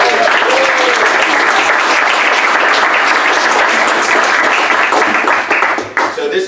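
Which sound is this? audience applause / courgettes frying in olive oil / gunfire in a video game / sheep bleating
audience applause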